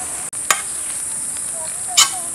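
Ivy gourd (kundru) frying in oil on a tawa crackles in a steady close sizzle, with a couple of sharp scraping stirs breaking through.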